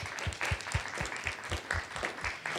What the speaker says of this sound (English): I would like to give Treasurer Har a round of applause for his amazing work